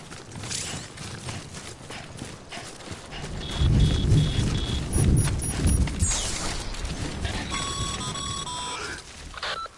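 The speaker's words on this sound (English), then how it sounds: "Don't stay out in the rain any longer than you have to." Rain and thunder in the video game Death Stranding: a constant patter of rainfall with deep rolling rumbles swelling in the middle, plus some mechanical clicks and faint electronic tones, no talking.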